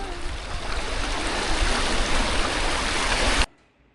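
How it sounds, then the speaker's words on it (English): Steady, dense hiss of light spring rain falling on a river in early morning, even and unbroken, stopping abruptly just before the end. "It's an early morning with the spring rain drizzling down."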